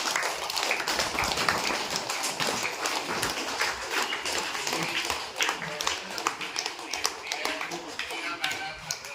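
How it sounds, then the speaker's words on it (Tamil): A group claps steadily to thank a family at a home charity meal in Samayapuram, dense close hand claps running throughout with voices mixed in. "கைத்தட்டி வாழ்த்துக்களையும் நன்றியையும் தெரிவித்துள்ளோம்."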